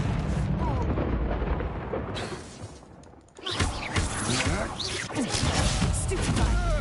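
Confringo blasting spell from Hogwarts Legacy on PS5, a dense roaring wash of explosive bursts and crackling debris that dips briefly, then surges back loud and sustained with game effects layered throughout.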